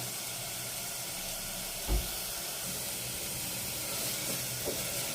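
Frying sizzle in a hot clay pot while cooking mutton gravy curry, a steady close hiss running throughout with a brief low thump near the middle.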